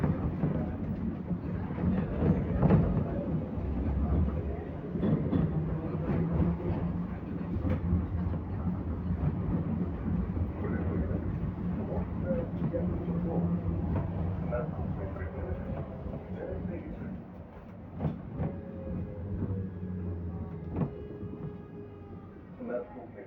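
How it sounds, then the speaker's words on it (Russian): A Minsk BKM tram, number 60102, rolls along with a steady low rumble and rattling from the car body, heard from inside with occasional clanks and faint announcements. "Поездки на трамвае."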